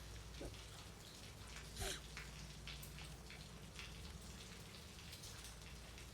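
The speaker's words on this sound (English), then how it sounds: "Isn't it weird that it's raining inside the house" Steady rain patters and hisses throughout, with scattered drops tapping nearby; soft and constant. The rain falls indoors inside a house in the video game Fatal Frame II Remake.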